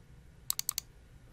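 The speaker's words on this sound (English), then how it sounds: "Then I'm going to right click and choose Edit Items." A mouse right-click during a LabVIEW walk-through: a quick burst of four light, crisp clicks, close by and quiet, with silence around them.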